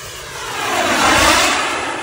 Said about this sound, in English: We are back out here with the HSD Jets T45 turbine jet.